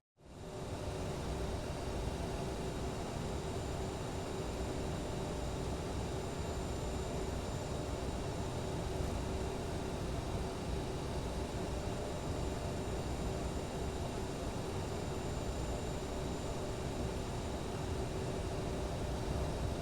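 A CRJ regional airliner taxiing in a flight simulator gives a steady, unbroken jet engine drone with a faint tonal whine, loud and constant throughout with no voices.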